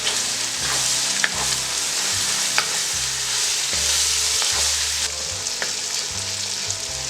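Plov ingredients being stirred with black pepper in a kazan for Bukharian Jewish plov sirkaniz, a steady sizzle of frying under repeated scraping strokes of the spoon, close and fairly loud, with no talking.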